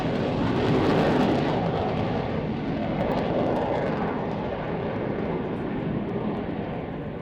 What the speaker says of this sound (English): there is the Lancaster turning onto the display line